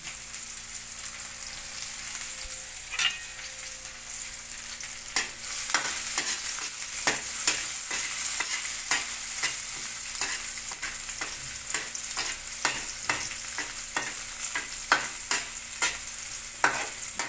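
Chopped onion frying in a pan for a dish of patola with sardines, a steady sizzle broken by frequent sharp scrapes and clacks of stirring, close and continuous throughout.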